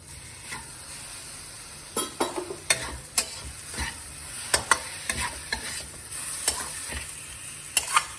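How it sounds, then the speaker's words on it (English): Two medium tomatoes cooking in a pan for a spinach moong dal masala dosa, a soft constant sizzle punctuated by repeated sharp clinks and scrapes of a spatula stirring against the metal, close and with no voices. "Now I'm going to be adding tomatoes. This is 2 tomatoes, medium size."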